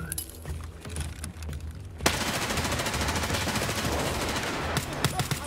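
Gunfire in the shooter Escape from Tarkov starts with a few scattered shots, then becomes a sudden loud burst of sustained automatic fire that rattles on continuously, with sharp cracks near the end.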